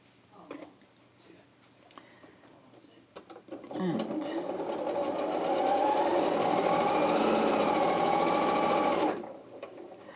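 A sewing machine chain pieces fabric squares, running in a loud, steady whirr for about five seconds after some handling clicks and a quiet voice; the motor stops abruptly near the end.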